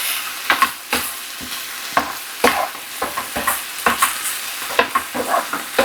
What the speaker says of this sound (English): Now that our sausage is nice and browned up, I'm going to add 3 tablespoons of butter to this thing.